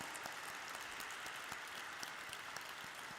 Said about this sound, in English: can we have a huge round of applause for our phenomenal founders?